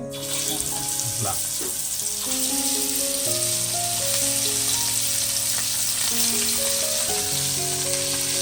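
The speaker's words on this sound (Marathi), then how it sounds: "थोडेसे मी तव्यात फ्राय करतोय" Fish frying on a flat pan in a Konkan village kitchen gives a loud, steady, close sizzle throughout, with a melodic tone running underneath.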